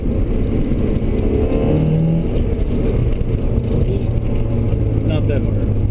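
A car engine drones steadily while rev-matching on a downshift to 2nd gear at about 40 mph, with the engine tone shifting under continuous talk.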